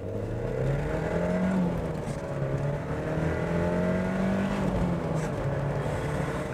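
A Ford sports car accelerates hard from inside, its engine note climbing through rising revs and then dipping at a gear change before climbing again. It is loud and close, with no talk.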